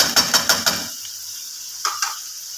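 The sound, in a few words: soaked rice added to roasted chickpeas in pot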